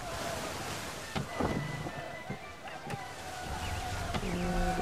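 A sailing ship moving over ocean waves in the video game Assassin's Creed III, with steady wind and water wash, occasional creaks and thumps, and someone speaking over it.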